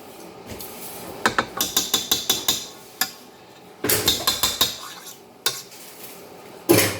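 Grain-free pizza batter being beaten in a bowl produces quick rhythmic bursts of clacking utensil strikes, several sharp beats per burst with short pauses between, close and alone.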